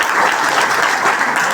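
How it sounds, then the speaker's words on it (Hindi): An audience in a college hall breaks into a short burst of dense, loud applause, many hands clapping together at close range with no pause. "सर के लिए ताली बजाओ।"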